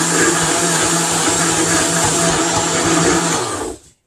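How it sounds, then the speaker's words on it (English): A countertop blender runs at full speed, loud and steady, pureeing three cups of spinach for a green smoothie, then winds down and stops at the end. "get it started, get the spinach blended down"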